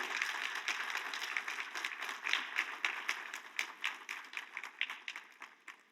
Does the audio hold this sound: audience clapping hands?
yes